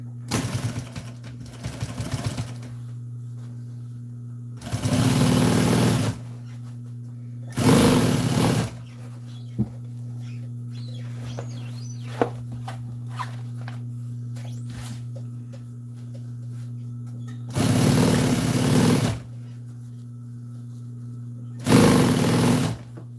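Sewing machine stitching a fabric cover for an exhaust fan, running in several short loud bursts of whirring stitches separated by pauses filled with a steady low electrical hum and small handling clicks.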